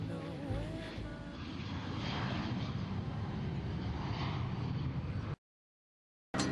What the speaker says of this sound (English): I'm leaving on a jet plane